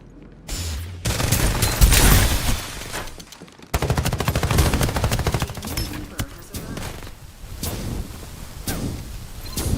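Gunfire in a mobile shooter game, with dense, rapid bursts and overlapping automatic shots. A brief gap falls midway, then heavy fire resumes at varying distances, partly under a voice and background noise.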